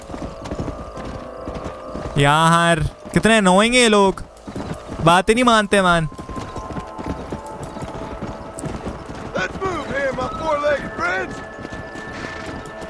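Horses trotting and neighing in the Red Dead Redemption video game on Xbox, steady clip-clop hooves throughout with loud, repeated whinnies near the start and again later, under someone talking.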